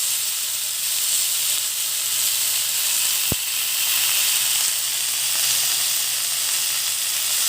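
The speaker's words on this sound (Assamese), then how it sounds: "এতিয়া ইয়াত তিতা ফুলখিনি দি দিম" Bitter flowers dropped into onions frying with turmeric in a pan, a constant loud hiss and sizzle of hot oil with one brief sharp tap midway.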